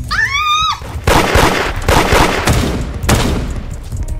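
Gunfire in the Roblox game Da Hood, a quick sputter of game gunshots in rough bursts filling most of the clip, loud and close, following a brief high electronic warble at the start.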